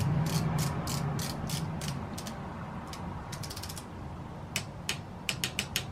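Quick runs of metallic ratchet clicks come from a tool screwing in the crankshaft hole cap on a Honda Super Cub C125, close and crisp, in bursts that grow sharper and more spaced toward the end.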